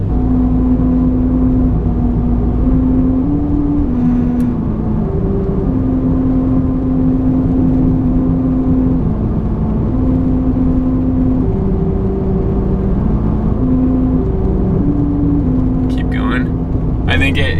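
Car cruising near 45 mph over the grooved Route 66 musical road in New Mexico, a loud steady drone whose hum steps through a sequence of sustained tones like a slow melody, with road rumble throughout.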